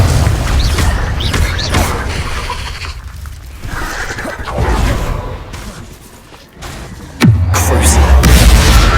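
A Confringo explosive spell in Hogwarts Legacy fires with whooshes and booming impacts amid layered combat effects, ending in a sharp loud blast followed by heavy rumbling.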